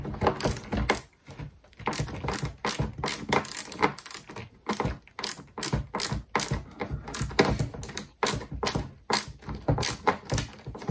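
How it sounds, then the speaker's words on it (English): A screw being removed from a Toyota Celica headlight with a hand tool, close, rapid clicking and ratcheting taps in irregular bursts with short pauses. "So we'll just take the first screw out."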